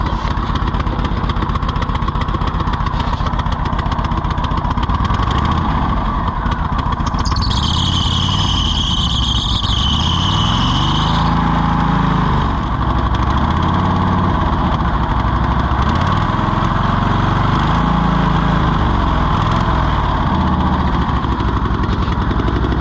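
Cushman Truckster utility vehicle engine running steadily at a loud, constant idle without revving up, a brief higher-pitched whine rising over it for a few seconds in the middle.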